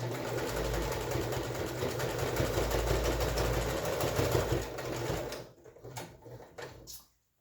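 A sewing machine stitches over face mask pleats with a close, steady whir for about five seconds, then stops, leaving a few quiet clicks and handling sounds.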